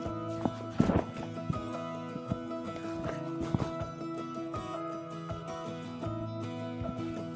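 A horse walks under a rider, its hooves clip-clopping at an irregular pace close by, with a soft whinny and steady background hum throughout.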